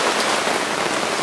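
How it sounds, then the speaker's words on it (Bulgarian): Rain falls on outdoor fountains, making a loud, close, continuous hiss of drops striking water and stone, with no one speaking. "сега има дъжд, има фонтани."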